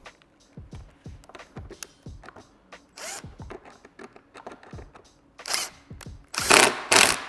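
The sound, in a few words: cordless impact driver making impact noise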